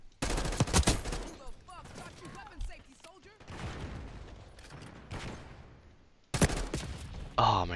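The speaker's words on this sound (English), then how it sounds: "I was being shot at by two people." Gunfire rattles in Black Ops 6 multiplayer: loud bursts of rapid automatic shots open and close the stretch, with scattered quieter shots and game effects between them and some talk mixed in.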